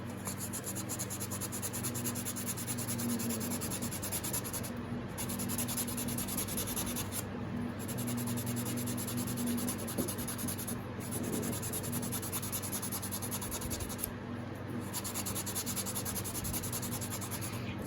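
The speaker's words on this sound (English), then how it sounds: "I always try to keep this spinning when I'm sanding it, just to keep that roundness on it" Hand sanding of a carved wooden round crankbait body, the bait kept spinning as it is worked, giving a steady close-up rubbing rasp that runs continuously with brief pauses.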